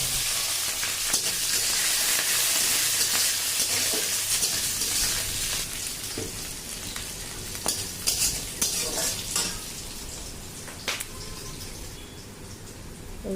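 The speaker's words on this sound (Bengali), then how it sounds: "পেঁয়াজ আর লঙ্কাগুলো দিয়ে ভেজে নেবো ভালো করে।" Onions and green chilies fry in hot oil with a steady broad sizzle, giving way to close spoon stirs and scattered scraping taps against the pan, no voices.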